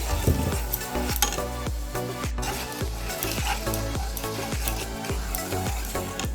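Water and sugar are stirred in a pan to make syrup for besan peda. A spoon scrapes in close, regular strokes about twice a second, ringing with a metallic tone, with no voices.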